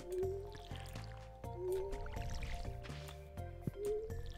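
Crops are watered in the video game Stardew Valley Expanded, with repeated soft splashing and dripping bursts from the watering can, several in a row at a steady pace over faint background game music.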